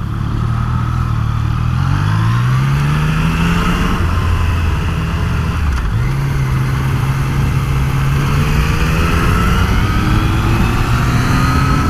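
A 2018 Yamaha MT-09 SP motorcycle engine runs steadily and loudly throughout while riding, its pitch sweeping up and down with repeated gear changes and revs, no speech over it.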